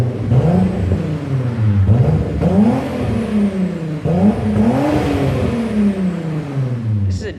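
A VR6 Turbo car with 268 cams and an aggressive engine mount revs through its muffler, rising and falling in several throttle pulls with a mellow, droning exhaust tone, close up and loud.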